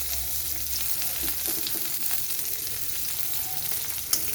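Long-sliced onions fry in mustard oil with panch phoron for an egg, mustard and poppy-seed dish, a close, steady sizzle with scattered light crackles and a sharper tick near the end.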